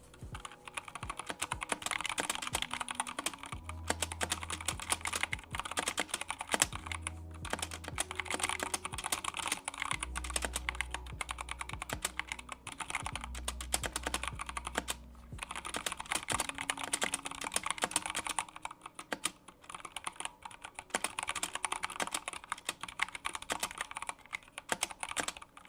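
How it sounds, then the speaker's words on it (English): Rapid, close clicks from a computer keyboard keep up a steady pattern of keystrokes, with short pauses between bursts and a low electronic hum underneath. "You guys ready for some ASMR typing?"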